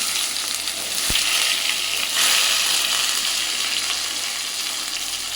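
Onions and curry leaves sauté in a hot pan of oil with a loud, continuous hiss and crackle, plus one sharp knock early on and a brief surge of sizzling midway.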